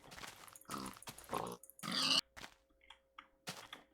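Pig grunts from the Minecraft video game, several short grunting bursts spaced apart with brief gaps, fairly close and clear, with no talking over them.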